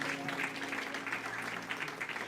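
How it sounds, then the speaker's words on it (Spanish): Steady applause from a church congregation fills the space, a continuous wash of clapping with a faint musical hum underneath. "dele un fuerte aplauso al Señor."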